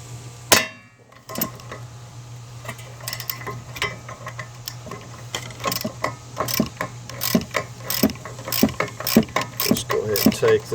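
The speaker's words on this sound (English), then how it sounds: "Alright, I got my extended ratchet, let's try it again." Extended hand ratchet loosening a snug rear wheel hub bearing bolt on a 2012 Mazda 3, a run of close, irregular clicks and metallic clanks over a steady low hum.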